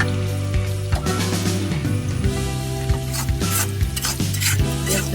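Onion browning in a pan, loud continuous sizzle with repeated scraping strokes of a spoon stirring it, close by and steady, no talking.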